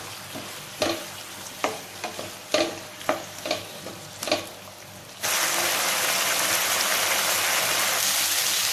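Taro and jackfruit seed stir-fry stirred in a pan, with a series of scraping strokes over sizzling, then a steady loud frying hiss taking over for the last few seconds.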